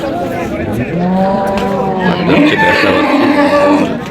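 A 35-day-old male calf moos in long, drawn-out calls close by, loud and repeated over a few seconds, at a cattle market.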